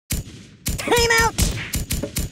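Several firearms go off in Kick The Buddy, a burst of sharp shots in rapid, uneven succession with thumping impacts, while a voice cries out over part of the volley.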